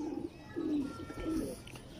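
Old teddy pigeons coo in three soft, rounded calls spaced about half a second apart, close by over faint background hiss.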